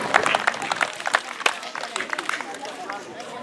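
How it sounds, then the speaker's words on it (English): Applause for a participant at a pro soccer clinic, sharp clustered claps and a few whoops from a nearby group, loud at first and then thinning out toward the end. "Another round of applause."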